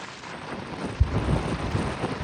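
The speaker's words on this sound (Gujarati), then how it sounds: "વરસાદ પણ ચાલુ છે." Rain falls steadily in the hills near Saputara, a low rumbling wash with a single dull thump partway through, heard close and alone without speech.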